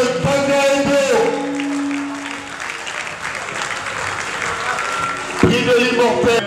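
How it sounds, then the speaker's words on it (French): Loud applause from a large crowd at a televised prize ceremony fills the space, steady clapping with music tones rising at the start and end. "Mesdames et messieurs, le tonnerre d'applaudissements"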